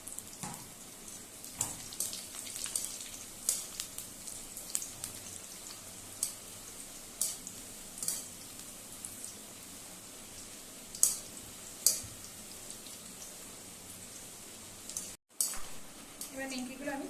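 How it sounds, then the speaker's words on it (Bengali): Nimki, a fried flour snack, frying in hot oil in a wok gives a soft, steady sizzle with scattered small crackles and stirring clinks, fairly quiet throughout with a brief dropout near the end. "এবার আমি নিমকিগুলো ভেজে নেব।"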